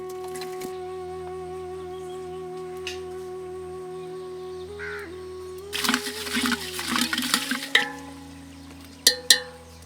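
Water from a lota pours into a pot for jaggery syrup: a quiet stretch, then a few seconds of splashing, followed by a couple of sharp clinks.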